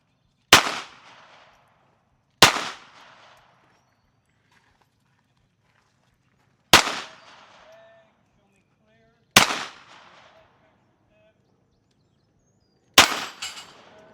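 Five sharp, loud Glock pistol gunshots at a GSSF shooting match, fired singly at uneven intervals with short echoing tails and silence between them.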